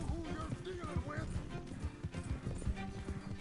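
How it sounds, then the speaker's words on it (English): A horse gallops in the Red Dead Redemption video game, its hooves pounding in a fast, rhythmic clip-clop that stays close and steady, while someone talks over it. "Gee, look at this horse go. It seems to pick up quite a bit of speed."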